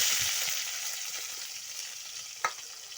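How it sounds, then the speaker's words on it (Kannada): Garlic fries in hot oil for a mango sambar, giving a steady, soft sizzle with a single brief stir or clink near the end. No one speaks. "ಚಂದಾಗಿ ಬೆಳ್ಳುಳ್ಳಿ ಫ್ರೈ ಆಗ್ಬೇಕು ರೀ ಎಣ್ಣೆಗೆ ರೀ."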